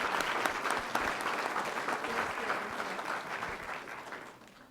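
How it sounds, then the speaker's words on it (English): A school board meeting audience gives a round of applause, a dense wash of many hands clapping at moderate distance, continuous and fairly even before fading toward the end. "let's give them a round of applause"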